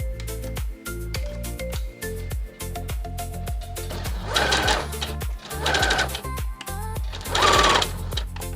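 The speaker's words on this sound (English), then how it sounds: "sew down both side seams" Sewing machine stitching the side seams of a fabric tote bag: rapid rhythmic needle chatter in several bursts, some runs louder and busier than others, with brief pauses between, close and without talk.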